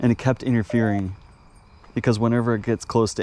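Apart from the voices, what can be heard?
No distinct noise like a dog, phone or traffic.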